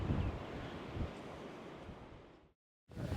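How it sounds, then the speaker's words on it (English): Strong wind gusting along the Lofoten shore in Norway, funnelled down from a nearby peak, roaring close and buffeting the microphone in broadband rushes, then cutting out briefly before returning. "Just shows you how the wind kind of funnels through this area from the peak up there."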